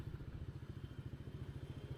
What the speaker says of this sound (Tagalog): Yan, tatlong motor lang naman kami.